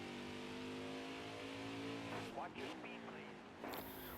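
Race truck engines in a truck racing video game drone steadily at high revs, then several cars sweep past at full speed with brief whooshing pitch shifts, with a commentator talking over the noise.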